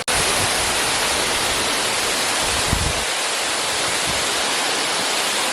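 A waterfall pours with a loud, constant roaring rush of water that fills the whole clip, broken only by a brief low thump midway.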